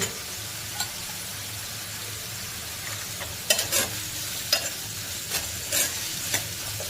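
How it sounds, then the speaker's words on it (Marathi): Tomato and onion cook in a kadhai, a gentle low sizzle under several sharp metallic scrapes and taps of a spatula stirring, heard up close without any speech. "टमॅटो कांदा शिजवा"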